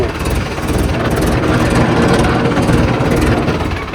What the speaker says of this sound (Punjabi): ਉੱਥੇ ਟਰੈਕਟਰ ਦੇ ਗੇੜੇ ਦੇਈ ਉਹਨੇ ਨੇ ਲਤਾੜ ਹੁੰਦੀ ਜਾਣੀ ਆ